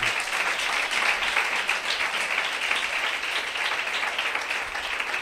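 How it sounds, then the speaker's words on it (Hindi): Loud, steady applause from a church congregation clapping for Jesus Christ during a sermon, a dense continuous wash of hands without pause. "यीशु मसीह के लिए जोरदार तालियां"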